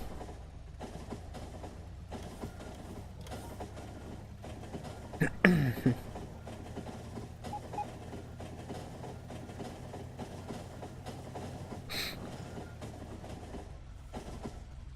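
A train running in the video game Factorio, a steady low rumble with rhythmic clacking and a brief screeching swell partway through, continuing at an even level afterward.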